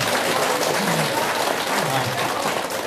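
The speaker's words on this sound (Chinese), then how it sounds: "给点掌声给这些同修" An audience at a Buddhist dharma talk applauds with dense, steady clapping that fills the whole moment at a loud, even level.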